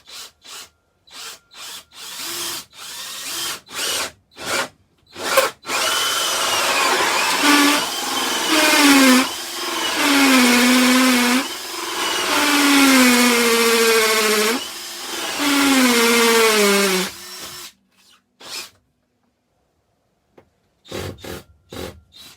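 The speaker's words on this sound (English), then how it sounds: "Hammer drill for some reason. I'll drill out the other end now." A hammer drill bores through the wooden floor of a Jayco Journey camper during a diesel heater install. A long, loud grinding run is bracketed by short bursts of drilling before and after, with no talking.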